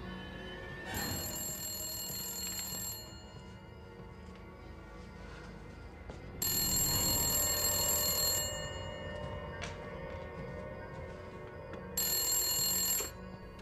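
A telephone rings in three bursts of bright electronic trilling, each lasting about two seconds with quieter gaps between, heard indoors over a low background hum with no talking.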